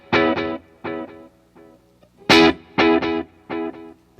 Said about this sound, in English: I have the El Capistan going into that one at a dotted eighth note delay with the mix turned all the way up